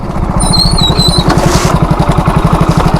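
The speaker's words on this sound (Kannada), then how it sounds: "ನಮ್ಮ ಬೈಕ್ ಗೊತ್ತಲ್ಲ ಸ್ಪ್ಲೆಂಡರ್ ಬೈಕ್ ಗುರು ನಮ್ಮದು" A Hero Splendor motorcycle engine runs loud and close, a steady low putter of rapid pulses, with a brief high whistle near the start.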